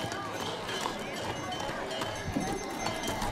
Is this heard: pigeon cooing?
no